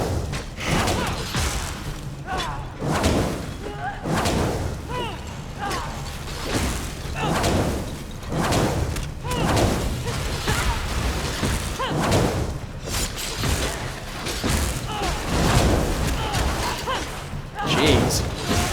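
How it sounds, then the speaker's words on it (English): Trap explosions go off in Elder Scrolls Online combat: a rapid string of heavy booms and thuds repeating every second or so, with someone talking over the barrage. "Forgot about the explosions."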